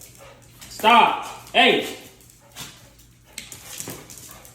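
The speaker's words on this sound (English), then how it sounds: "What the hell is that dog's problem?" A dog gives two loud, sharp barks close by, with whimpering edges, while people talk and shout over the household scene.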